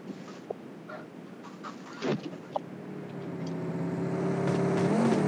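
A vehicle in the PUBG Mobile battle-royale game draws nearer, its engine hum rising steadily and growing louder over several seconds, with a few faint sharp clicks and taps from gameplay before it.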